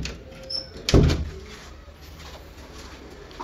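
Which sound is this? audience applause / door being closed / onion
door being closed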